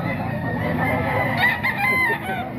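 An eight-month-old golden boy sweater gamecock crows at a rooster sale, its call rising clearly over constant crowd murmur and other birds clucking nearby.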